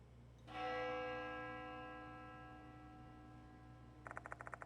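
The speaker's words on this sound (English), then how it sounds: "The sound of a bell echoes in my ears." A bell in the video game Death Mark 2 strikes once and rings out alone with a long, slowly fading tone over a low hum, followed near the end by a quick series of lighter ticking chimes.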